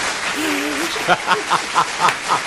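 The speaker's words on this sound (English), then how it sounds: "let's see if he can work the claps" Crowd in a studio clapping along in a steady rhythm, about six evenly spaced claps over a voice at the start and a constant room hum.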